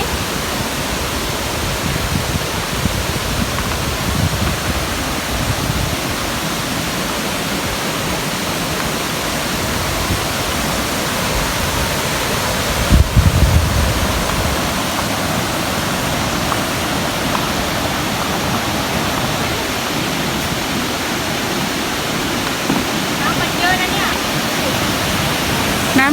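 A fast-flowing, swollen river near a fish cave in Mae Hong Son rushes like a waterfall, a loud, continuous broadband roar throughout, with a brief knock partway.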